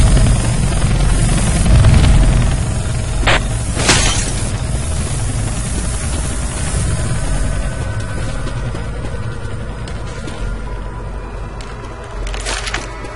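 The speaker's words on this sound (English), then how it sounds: "It's a helicopter." A helicopter in the zombie shooter Left 4 Dead 2 roars with loud, dense rotor and engine noise throughout, broken by a few sharp cracks and thumps of gameplay.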